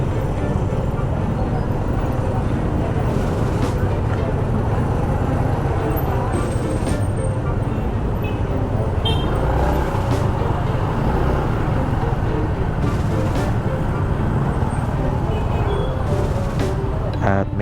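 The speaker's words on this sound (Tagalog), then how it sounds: "At medyo traffic pag ganitong oras." Steady road traffic in the golden-hour evening, a continuous broadband rumble of cars and buses passing close by during a solo ride, loud and unbroken throughout.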